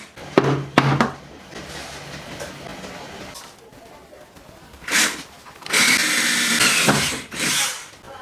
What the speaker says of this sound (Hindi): मैं इसको ड्रिल के जरिए इसमें काफ़ी सुराखें करके और फिर इसको बाहर निकालूंगा